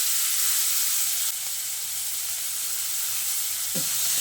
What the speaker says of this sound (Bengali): এবার ফোড়নটাকে ভেজে নিয়ে এর মধ্যে দিয়ে দিচ্ছি কুচিয়ে নেওয়া পেঁয়াজ।